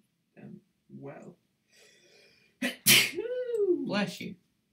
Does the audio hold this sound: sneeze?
yes